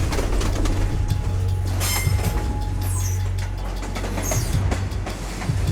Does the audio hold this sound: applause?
no